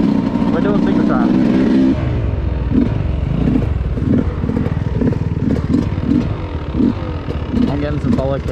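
A 2021 Sherco SE300 dirt bike rides on single track, its engine note rising and falling in repeated revs with clattering from the trail, close and loud throughout.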